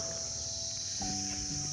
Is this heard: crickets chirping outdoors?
yes